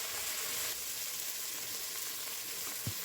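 Crushed masala hits a hot pan and gives off a steady, soft sizzle, a faint hiss that runs evenly with a small clink near the end and no voices.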